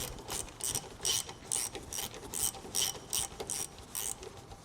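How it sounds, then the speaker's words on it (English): Hand ratchet loosening the brake caliper bolts on an Acura RSX, rapid rhythmic clicking bursts repeating up close, with no talking. "It's only 2 bolts to remove this caliper."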